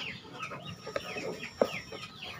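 Free-range village chickens being fed fermented cassava leaves mixed with leftover rice, clucking softly and intermittently at close range, with a couple of sharper, louder clucks standing out from the low murmur.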